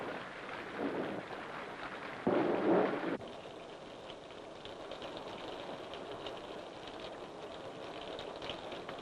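Steady rain falls outdoors in an old Tamil film scene, a soft continuous hiss with a louder, denser burst partway through before settling back to a quiet, even patter.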